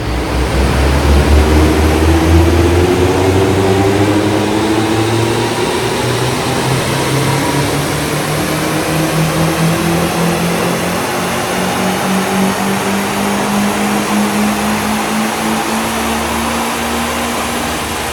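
A turbocharged Mazda MX5 engine drones loud and steady through a run, with pitch slowly sweeping up and down as revs change, the whole time swamped in broadband roar and airflow noise.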